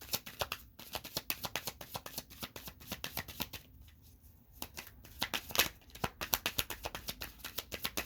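Tarot cards are shuffled and laid out in a quick, crisp riffling flutter of paper taps with brief pauses, close and clear, with no talking.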